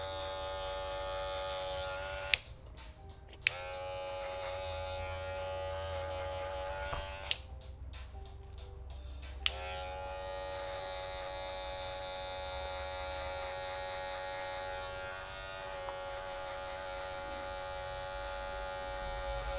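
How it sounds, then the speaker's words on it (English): Electric hair clipper set to zero trimming a beard, a steady close buzzing drone with a few brief pauses and clicks as it switches off and on, running alone without talk. "I'm going to take about 1 inch below with a 0 on the clipper"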